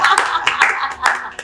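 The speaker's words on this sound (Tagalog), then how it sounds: "Uy, palakpak naman kayo dyan!" Studio audience clapping to welcome a guest on a Filipino talk show, a short burst of uneven claps, fairly close and loud, with a voice speaking over them.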